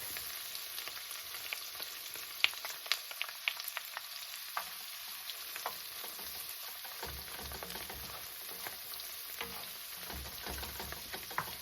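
Garlic sizzles steadily in a frying pan while beef stroganoff is being made, a continuous close crackle with small pops and occasional stirring scrapes, and no voices.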